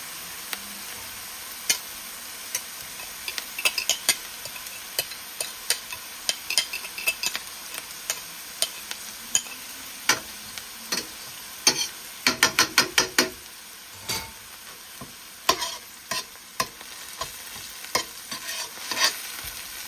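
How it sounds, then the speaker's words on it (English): Tomato paste fries in a pot for rice and beans while a utensil stirs it, sharp irregular scraping clicks over a soft steady sizzle, near and clear with no talking. "So since this frying, we're gonna add the tomato paste in this."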